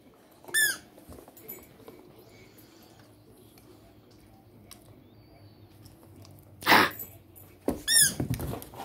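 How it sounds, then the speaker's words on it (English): A dog chews a squeaky Tigger toy, producing three sharp squeaks, one early and two near the end, with quiet rustling and chewing between. "Oh, it's got a new squeak."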